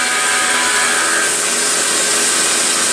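A PM727MXL milling machine cuts aluminum about 10 mm deep with a three-flute end mill at 30 inches per minute, giving a steady, loud, high-pitched whine with a bright metallic edge that holds for the whole stretch.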